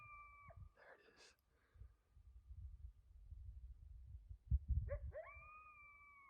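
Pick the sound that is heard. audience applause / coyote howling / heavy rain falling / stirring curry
coyote howling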